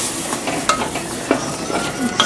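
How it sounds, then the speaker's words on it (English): Roux being added to a pan of sauce and stirred, with a soft continuous sizzle and scraping, plus a few light clinks of a utensil against the pan, close up. "Okay, just made a little bit of roux. Going to put it in here."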